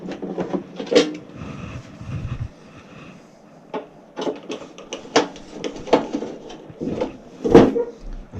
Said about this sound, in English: Let's open the panel door.